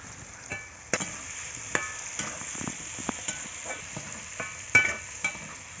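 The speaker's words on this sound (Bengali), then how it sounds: "ওলগুলো ভাজা হয়ে গেছে।" Elephant foot yam pieces with turmeric powder fry in oil in a village kitchen, giving a soft, steady sizzle broken by sharp clicks and scrapes of stirring.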